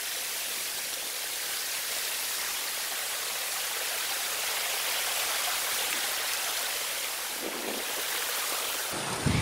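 Latason Falls waterfall in Calatrava, Negros Occidental, a steady broadband rush of falling water, loud and continuous throughout with no pauses.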